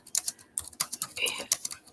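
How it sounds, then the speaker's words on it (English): Quick bursts of keystrokes clatter on a computer keyboard, irregular and close, with brief pauses between runs of typing. "Sorry, I'm typing"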